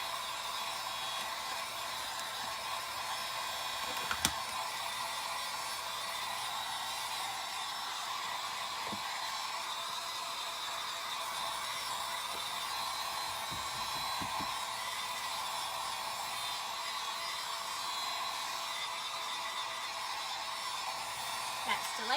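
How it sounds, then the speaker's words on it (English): A heat gun blows hot air steadily across a surface to dry it before sanding, a continuous broadband whoosh held at an even level throughout, with a few faint clicks and no talking. "keep your heat gun moving"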